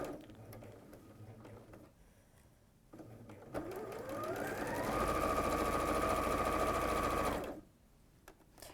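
Sewing machine stitching a quilt seam: after a few light clicks, the motor whirs up and holds a steady, fairly loud hum for several seconds close by, then stops abruptly into quiet.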